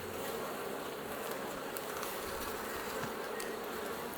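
Honeybees buzz steadily around an open hive during spring beekeeping, a dense, continuous swarm hum close by with no talk.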